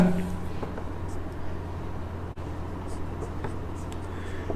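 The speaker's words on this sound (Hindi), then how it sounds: "लिखते हैं इसमें कुछ पॉइंट्स" Pen or chalk scratches out points during a tenth-grade biology lesson on the adrenal gland, with faint intermittent strokes over a steady low hum and no talk.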